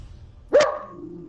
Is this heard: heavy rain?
no